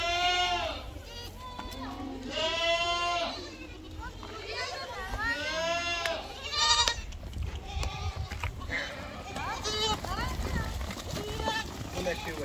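Goats and young kids bleat repeatedly at a goat farm in Molipur, their loud, close cries overlapping in quick succession above a steady farmyard murmur.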